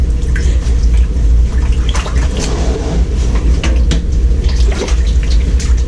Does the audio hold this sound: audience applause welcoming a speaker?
no